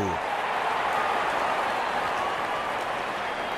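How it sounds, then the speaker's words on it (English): Steady, broadband crowd cheering and applause fills a cricket stadium as the openers walk out in Real Cricket 22, a continuous dense roar with no single voice standing out. "Out come the openers, cheered by a good crowd in."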